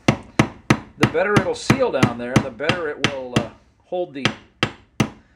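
A hammer taps a kingpin cap into the steering knuckle of a Datsun truck in a run of sharp, evenly spaced metallic strikes, close and loud, with someone talking between and over the blows.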